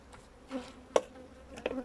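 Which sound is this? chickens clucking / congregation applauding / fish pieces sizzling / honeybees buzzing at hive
honeybees buzzing at hive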